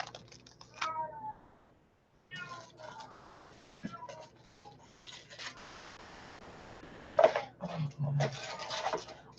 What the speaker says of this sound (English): Oh, there goes my cat.